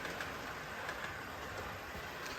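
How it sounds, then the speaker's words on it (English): A model railway layout with 1962-era rolling stock running, giving a faint, continuous rolling rumble with light clicking, steady and unbroken, no voices. "Oh, look, there's the train."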